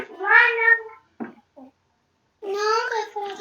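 A cat at home gives two drawn-out meows, the first near and fairly loud, then a few faint short sounds, then a second long meow after a pause.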